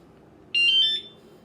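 A Chinaped scooter's anti-theft alarm, set off with its key fob, lets out one short, loud electronic chirp at close range, rising then warbling briefly before cutting off.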